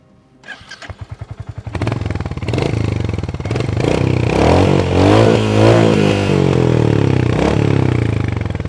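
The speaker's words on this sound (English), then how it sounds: "let's just fire these engines up" Single-cylinder motorcycle engines, a Royal Enfield Hunter 350 and a TVS Ronin, crank over with a few quick pulses, then catch and settle into a loud, throbbing idle with some revving, close by.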